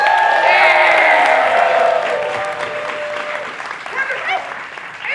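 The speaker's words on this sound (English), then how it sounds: "Give yourselves a round of applause." Applause from a live audience at a puppet cabaret fills the room, strongest at the start and tapering slightly, with some voices and a whoop mixed in.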